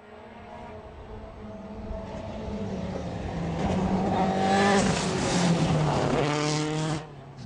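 A rally car roars past on a special stage of the 2013 Rallye du Touquet, its engine revving up through the gears, building louder as it nears before cutting off abruptly.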